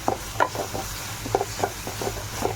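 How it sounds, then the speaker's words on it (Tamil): Ginger and garlic sautéing in a pan, with a spatula scraping and stirring in repeated short strokes over a faint steady sizzle, fairly close and without talk. "நல்லா வதங்கினதுக்கப்புறம் பார்ப்போம். இஞ்சி பூண்டு சேர்த்தாச்சு."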